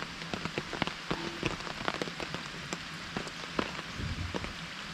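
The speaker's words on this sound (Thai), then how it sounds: "บรรยากาศฝนตก" Steady rain falling on a surface, with scattered sharp drips and taps against a constant wash of patter.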